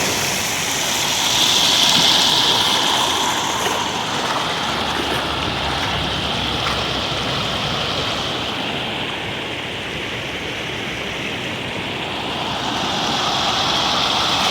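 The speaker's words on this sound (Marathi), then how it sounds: "पाण्याचा प्रवाह बघा किती आहे" Village river water rushes loudly and continuously over a submerged weir in high flow, a full roaring flow that swells slightly near the start and again at the end.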